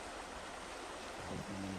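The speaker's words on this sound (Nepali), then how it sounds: "हट आम्मा खोला त ठुलै छ बेसरी" A swollen Rapti river in flood rushes past in a steady, loud broadband roar close by, and a voice begins faintly near the end.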